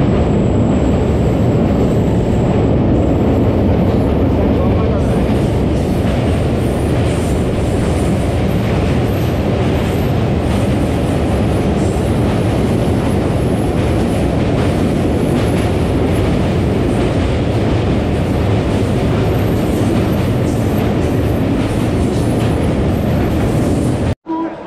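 A Bandel-bound local train in Hooghly, West Bengal, heard from inside a carriage: a loud, continuous rumble and roar of wheels and motors with faint rail clatter, running steadily for the whole stretch until it cuts off abruptly.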